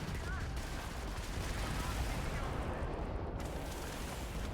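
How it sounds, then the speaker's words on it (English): A Starfield ship's ballistic cannon fires amid space combat, heavy booming blasts merging into a dense, continuous rumble of explosions and impacts, loud and close. "So the ballistic cannon does decent damage"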